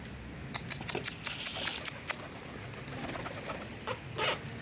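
Pigeons coo softly in the background in snow, with scattered flutters and light tapping from the birds, fairly faint and without any talk.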